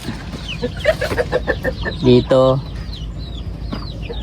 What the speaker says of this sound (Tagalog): Ang ating mga manok.